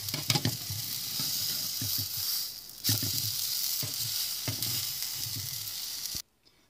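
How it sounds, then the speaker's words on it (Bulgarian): Banana pancake sizzling and frying in a pan, a steady close hiss with soft scraping as it is turned a few times, with no speech, then cutting to near silence at the end. "След това я обръщаме ето така няколко пъти за по няколко секунди, за да се доизпържи от всякъде."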